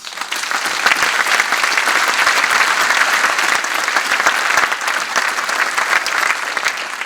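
Sustained audience applause at the opening ceremony of the 2021 Francophone Film Festival in Angoulême, a dense, steady crowd clapping that stays loud and even for about seven seconds with no voice over it.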